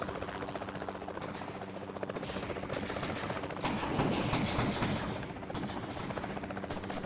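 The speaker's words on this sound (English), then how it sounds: "Enemy helicopter behind us." Helicopter in the VR shooter Bullets and More, a steady loud rotor drone with layered gunfire crackling throughout, swelling slightly midway.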